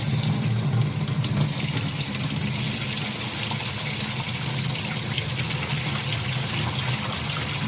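Hot water runs from a sink faucet in a house, a steady close gushing hiss that holds even and unbroken throughout, with no voices.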